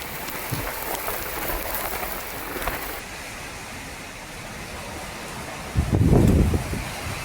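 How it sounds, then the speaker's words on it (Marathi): Unseasonal rain falls with gusty wind in Bhor taluka near Pune, giving a steady broadband hiss of downpour with a louder gust-like surge near the end; no talk. "आता पावसाने हजेरी लावली आहे"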